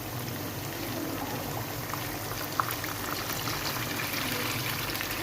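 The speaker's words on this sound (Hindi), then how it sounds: "अब मैं इसके अंदर जो है ना पानी ऐड कर दूँगी।" Steady rushing of water pouring into a cooking pot of beef trotters, continuous and close, with a soft clink partway through.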